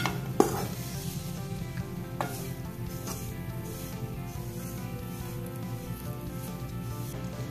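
Red chili powder, salt and turmeric being sautéed in a pan, with a soft continuous sizzle, a sharp clack of a spoon against the pan near the start and a few lighter scraping stirs after.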